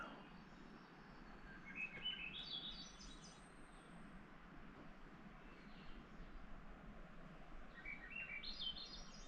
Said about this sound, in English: Those birds are going off